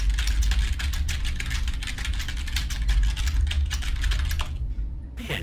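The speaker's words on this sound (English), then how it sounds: "Man, you need to clean your keyboard." Fast, steady typing clatters on a dirty computer keyboard, loud and close, with dense rapid keystrokes that stop briefly near the end before one more burst.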